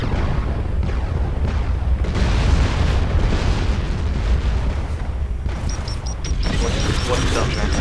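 Missile explosions in the mech combat game MechWarrior Living Legends, on a forest valley map: a run of heavy booms and bursts rolling over several seconds, loud and close, with a rapid beeping tone near the end.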